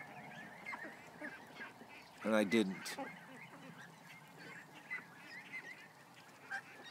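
Goslings honk in short, clustered bursts outdoors, one louder group standing out near the middle and fainter calls scattered around it, with a person speaking briefly nearby.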